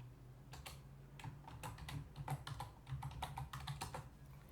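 Keys on a computer keyboard clack in a quick, uneven run of close, quiet taps while a password is typed, with a faint low hum underneath.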